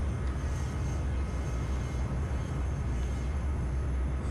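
Rockwell X-31 jet in the flight simulator FSX taking off, a steady broadband engine roar that holds even and continuous throughout without any talk.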